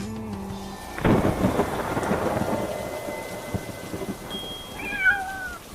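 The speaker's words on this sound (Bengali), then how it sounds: "বাজ পড়ছে আর আওয়াজ হচ্ছে" A loud thunderclap bursts after about a second in a storm, rumbling on over steady rain, with high chirping sounds near the end.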